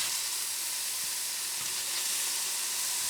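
Pork browns in a hot cast iron Dutch oven for green chili, a steady close sizzle and hiss of frying meat filling the whole stretch with no talk.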